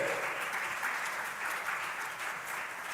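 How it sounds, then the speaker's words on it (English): An audience at an official programme launch keeps clapping to welcome a speaker to the stage, a steady, moderately loud round of applause that fills the hall evenly with no talk over it. "please keep clapping until he gets here"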